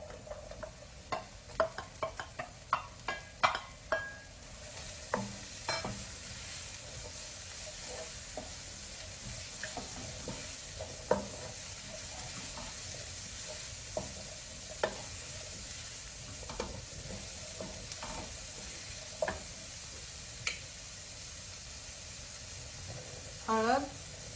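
Onion sautés in a pan with turmeric, making a faint ongoing sizzle punctuated by repeated spatula taps and scrapes at an uneven rhythm, with quiet talk in the background.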